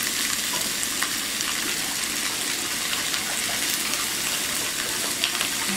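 Italian hot sausage sizzles steadily in a skillet, a close, even frying hiss with faint crackles and no voices.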